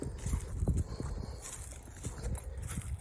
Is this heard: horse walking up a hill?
yes